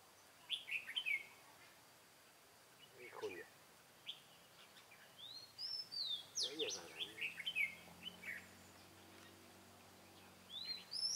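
White-cheeked bulbuls chirp in scattered short bursts at a bird-trapping spot, mostly moderately near, with quiet gaps and low background rumble between calls.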